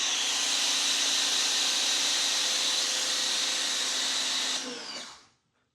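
An automotive pressure washer fitted with a foam cannon runs loud and steady as a hissing spray with a motor hum, then cuts off and fades to silence near the end.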